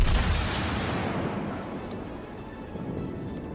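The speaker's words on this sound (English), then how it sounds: "He's firing a broad salvo in basically every direction he can go" A warship's broad naval gun salvo in World of Warships opens with a heavy, loud boom that trails into a long rolling rumble and slowly fades.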